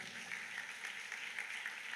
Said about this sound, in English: Please, let's clap for Jobberman.